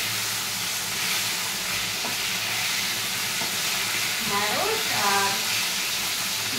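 Okra frying in a pan alongside yam pieces, a steady broadband sizzle throughout with faint clinks of stirring and a brief whistle-like tone near the end, no talking.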